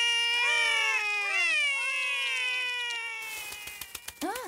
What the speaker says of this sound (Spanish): Los gatitos son Holly y Flor.